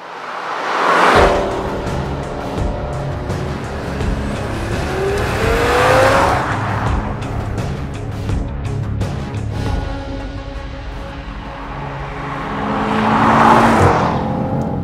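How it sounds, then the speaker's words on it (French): An Audi TTRS with a turbocharged five-cylinder engine of about 400 horsepower accelerates hard. Heard from close by, the engine climbs loudly through several rising sweeps between gear changes, with a sustained throaty roar. "On joue désormais de la trompette à bord du TTRS qui a droit à un rare 5 cylindres en version turbo et 400 chevaux"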